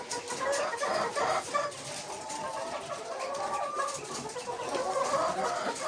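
Several hens clucking and murmuring in a coop, a steady overlapping chorus of soft calls heard at close range with no talk.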